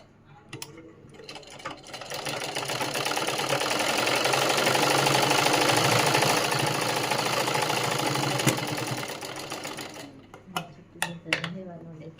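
A sewing machine runs in one steady, loud burst of about eight seconds while tacking a stitch on a princess-cut blouse. Brief speech and clicks come just before and after the run.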